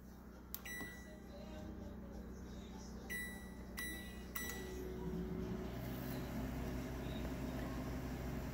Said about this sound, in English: Here's a microwave.